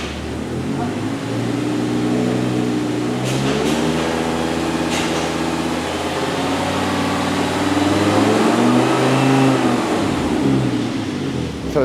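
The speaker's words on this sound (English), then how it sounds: "I'm going to rev the engine a little bit, just to raise the engine sound up slightly." An Audi R8 engine, freshly rebuilt on a new block, idles and revs up and down several times, a steady mid-pitched drone rising and falling close by.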